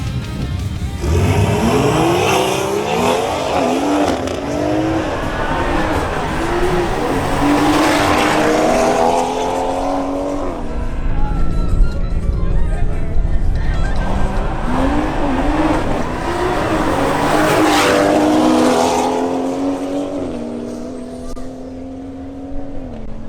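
A BMW X3 M40i launches down a drag strip, its engine roaring and climbing through repeated gear-change sweeps, loud and near, then fading as it pulls away, with a second surge of revving midway.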